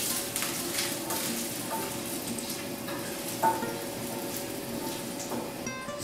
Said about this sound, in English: I'm just gonna cook my garlic till it's slightly browned